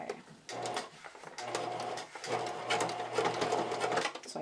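A sewing machine runs straight stitch in close, rapid bursts, stitching elastic onto fabric, its motor whirring and needle chattering, pausing briefly between runs.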